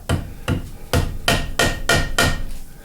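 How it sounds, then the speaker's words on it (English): A plastic hammer taps a machined precision spacer into place on a dividing head, six or seven sharp, evenly spaced knocks with nothing else in the background. "Let's take my plastic hammer and make it sure that it's there"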